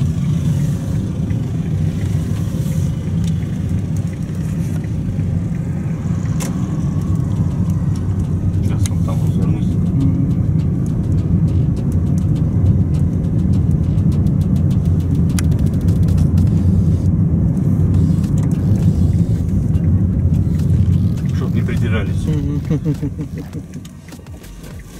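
Car engine droning steadily and loudly from inside the vehicle as it pulls up to a traffic police post, the low rumble continuous throughout before easing off at the very end.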